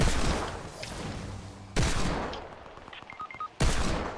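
Bursts of rapid video game gunfire from a burst SMG, loud and near, with a sustained volley, sharp cutoffs and renewed blasts separated by brief quieter gaps.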